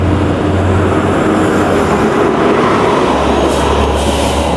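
A Disneyland monorail train passes close by with a loud, steady rumbling roar and low hum, continuous throughout.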